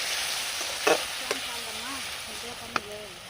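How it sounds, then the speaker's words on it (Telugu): Four large chopped tomatoes go into a hot pan with mint, bringing a soft, steady sizzle with a brief clatter of pieces landing and faint tonal sounds in the background. "పెద్ద సైజులో ఉన్న టమోటాలు 4 కట్ చేసి వేసుకుంటున్నానండి."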